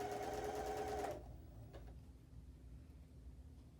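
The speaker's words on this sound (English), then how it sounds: "I'm lowering my presser foot, and I'm going to sew down the seam of this." A sewing machine stitches a quarter-inch seam on a quilt block of cotton fabric, its fast whirring run lasting about a second before halting, followed by quiet room tone and a faint click.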